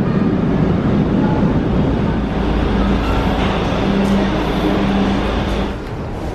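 Vienna underground metro train on the U4 line, a steady loud rumble and broadband roar of a carriage in motion throughout, with faint tonal whines; no talk.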